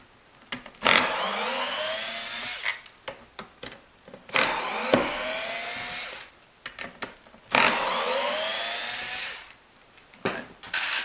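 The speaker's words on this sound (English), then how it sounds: "we'll take the screwdriver, the Phillips head kind, and just unscrew, take off these 4 screws" Screws being undone from a DynaMop pedal-style spinning mop mechanism, heard as three loud, sustained whirring bursts like a powered driver, separated by short quiet gaps and small clicks.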